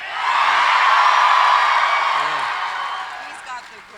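A large audience cheers, whoops and yells for Chuck Norris at a live event, a loud sustained roar that swells and then slowly fades over several seconds.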